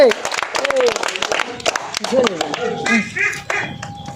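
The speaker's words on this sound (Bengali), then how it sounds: "হাত তালি জোরে, হাত তালি।" An audience claps during a girls' fuchka eating competition, a rapid patter of hand claps running beneath loud, continuous talking.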